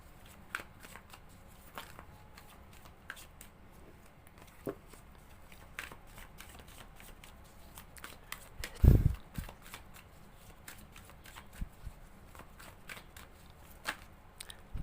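Tarot cards are handled and shuffled, with soft riffling and sliding card sounds and scattered sharp snaps and taps, one louder clack near the middle, close and quiet with no talk.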